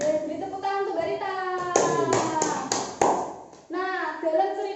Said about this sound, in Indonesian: beri tepuk tangan untuk Mbak Rita